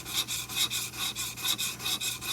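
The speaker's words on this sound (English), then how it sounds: "When you sharpen a blade, you want it to be super sharp." A metal blade stroked across a sharpening stone: about six even, rhythmic rasping passes, close and clear, with nothing else heard.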